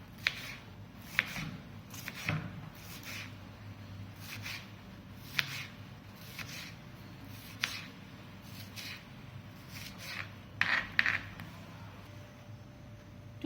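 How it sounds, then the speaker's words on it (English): Ginger, garlic, coriander leaves and chilies finely chopped with a knife on a board: soft, irregular tapping cuts in small clusters over a quiet background, with no talking. "we will chop it very fine"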